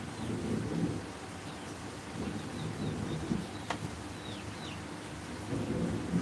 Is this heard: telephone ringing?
no